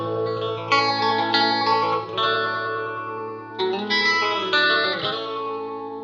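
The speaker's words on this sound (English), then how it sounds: "This is what the Phase 100 sounds like by itself normally." Electric guitar run through a vintage MXR Phase 100 phaser pedal, with sustained chords swirling and sweeping, played close and steady over two phrases with lingering reverb-like tails.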